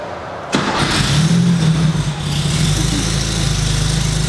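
A barn find Porsche 911 engine cranks and catches abruptly, bursting into a loud, rough run that wavers and dips before settling into an uneven idle with a deep low thrum.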